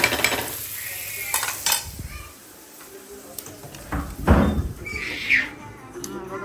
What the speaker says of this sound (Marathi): कांदा मस्तपैकी मारून घ्यायचं